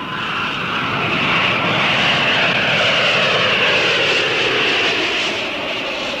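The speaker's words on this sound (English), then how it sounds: "announces the arrival of its DC-9 Super Lovebird service from New York" A DC-9 jet airliner arriving from New York, its engines a loud, steady broadband roar that swells slightly and holds for about six seconds with no voices over it.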